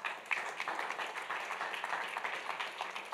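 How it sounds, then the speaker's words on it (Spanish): A church congregation gives loud applause, a continuous wash of many hands clapping at a steady, even intensity for a few seconds with no voices over it. "Le da ese aplauso fuerte"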